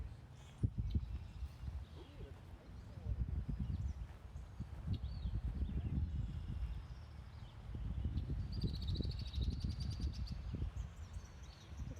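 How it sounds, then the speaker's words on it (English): A red-winged blackbird calls faintly in the distance on a spring morning outdoors, its trilling notes rising briefly over the low rustle and thuds of footsteps on a walk. "hear the red-winged blackbird. He's very vocal this morning."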